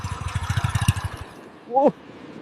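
A motorcycle ridden along an empty road toward Chandipur beach in Balasore gives a close, pulsing engine rumble that fades out after about a second, followed by a brief rising whistle-like tone.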